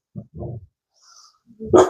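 Puppies bark and yip in short bursts, a couple of quick woofs at first, then a pause and a louder sharp bark at the end, close by in a quiet room.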